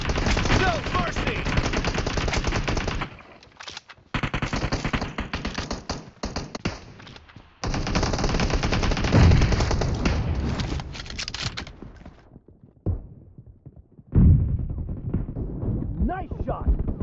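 Dense, rapid automatic gunfire fills a PUBG Mobile team deathmatch in long loud bursts, broken by brief pauses and single shots, with game voice announcements mixed in.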